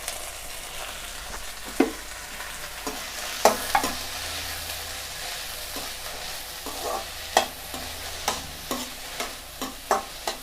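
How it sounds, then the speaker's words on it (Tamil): Chopped vegetables fry in hot oil for white pasta: a steady sizzle punctuated by repeated spatula scrapes and taps that come faster and more rhythmically toward the end. "எண்ணெய் காஞ்ச உடனே நம்ம வெட்டி வச்சுருந்த காய்கறி எல்லாமே சேர்த்துருங்க. அதில் எல்லாம் ஒரே வாட்டி சேர்த்துட்டு ஃப்ரை பண்ணிடலாம்."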